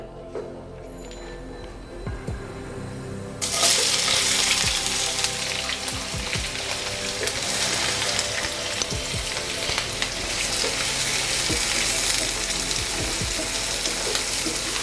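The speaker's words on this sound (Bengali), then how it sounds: "এটাকে আমি 30 থেকে 40 সেকেন্ড ভাজবো" Cloves and green cardamom fry in hot oil. A quiet start gives way to a loud, steady, close sizzle with scattered pops and crackles that carries on to the end.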